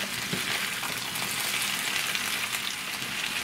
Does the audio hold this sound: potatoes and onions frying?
yes